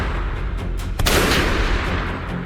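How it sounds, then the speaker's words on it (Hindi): Gunfire in a rural Punjab village drama, heard as a sudden sharp report that spreads into a loud rolling burst over background noise, with no speech. "ये कैसी आवाज है? गोलियां?"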